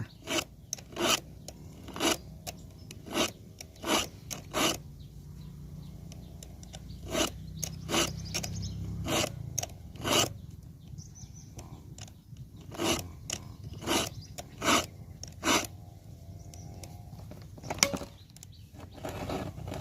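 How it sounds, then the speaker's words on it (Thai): A hand file rasps across saw teeth in short, repeated strokes, coming in rhythmic bursts with brief gaps, close and alone. "แต่ง แต่งฟันเลื่อย แต่งฟันเลื่อย"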